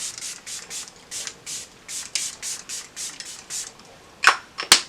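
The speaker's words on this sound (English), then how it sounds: "because why not spray it? It says it's a setting spray." Quick, breathy hisses of a makeup setting spray bottle repeat in a steady rhythm, about a dozen short bursts, then two sharper, louder sprays close to the microphone.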